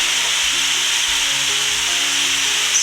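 Beef with broccoli, carrot, peppers, onion and scallion is stir-fried in a pan, producing a steady, dense sizzling hiss throughout, with faint stirring scrapes underneath.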